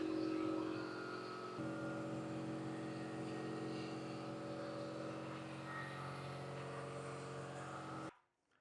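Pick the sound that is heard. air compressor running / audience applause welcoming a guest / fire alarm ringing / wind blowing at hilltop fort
air compressor running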